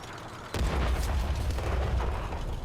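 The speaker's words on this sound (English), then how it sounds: "I'm just trying to dodge that enemy artillery here" Enemy artillery shell in World of Tanks lands with a sudden heavy boom, followed by a rumbling low roar and crackling debris that hangs on without fading.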